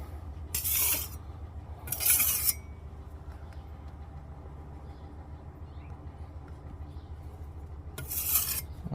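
A knife scrapes across a natural sharpening stone in a few separate strokes, gritty rasping sweeps heard up close, spaced apart by quieter stretches with light handling noise.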